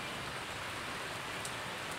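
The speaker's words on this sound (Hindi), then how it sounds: "कितना अच्छी बारिश हो गई रही है" Steady rain falling on an evening, a dense, even hiss of drops hitting surfaces at constant loudness throughout, with no voices.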